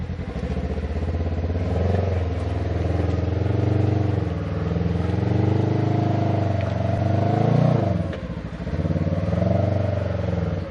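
Off-road vehicle fitted with a Duraclutch climbing over an obstacle, its engine droning steadily and rising in a sustained rev, loud and close, briefly dipping near the end before surging again.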